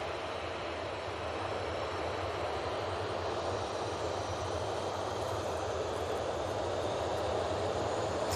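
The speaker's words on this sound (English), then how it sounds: "it's the Hainan A330 coming in from Beijing, a flight of 10 hours and 45 minutes" A Hainan Airlines Airbus A330 on final approach to land at Manchester Airport after a long flight from Beijing, a steady broad engine roar that swells slightly toward the end, distant and unbroken, with no speech.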